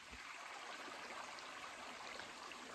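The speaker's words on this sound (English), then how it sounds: "you hear the water down there and see that there's water running" Steady hiss of running water from a creek in Cooney Canyon, New Mexico, constant and unbroken, with no voices, heard from a little distance.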